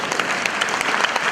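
A stand-up comedy audience claps in a dense, even burst of applause, many hands patting rapidly and fairly loud, with no voices over it.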